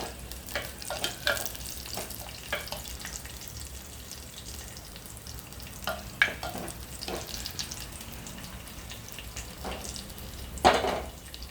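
Cashews fry in oil in a pan for carrot halwa. A soft, low frying hiss runs throughout, broken by occasional light scraping and stirring clicks close by.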